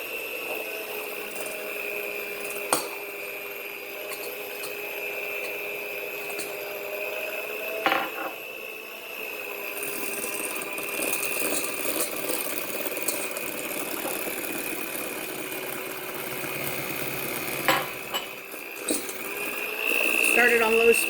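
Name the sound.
electric mixer beating eggs into brownie batter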